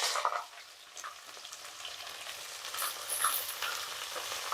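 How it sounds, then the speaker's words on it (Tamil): Onions go into hot ghee with cashews and whole spices for ghee rice, giving a crackling sizzle that starts with a burst, settles to a steady fry and flares again, with faint stirring and no voices. "வெங்காயம் சேர்க்குறோம்."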